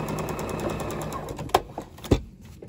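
A sewing machine runs a steady close stitching hum while sewing a flying geese quilt unit, followed by two sharp knocks as the work stops.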